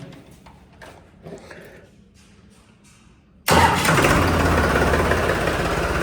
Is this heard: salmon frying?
no